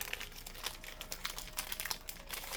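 A foil wrapper on a Magic: The Gathering booster pack crinkles and crackles in quick, irregular bursts as it is opened close by, faint and alone without talk.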